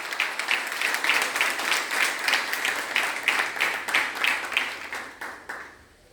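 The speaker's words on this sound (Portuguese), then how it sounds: "Pode aplaudir o Senhor mais uma vez." A church congregation at a Portuguese-language worship service claps in a dense, steady round of applause that keeps going, then thins out and fades near the end.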